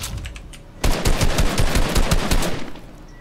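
Video game gunfire in a team battle-royale match: a rapid, dense stream of automatic shots kicks in abruptly and rattles on steadily for about two seconds before easing off.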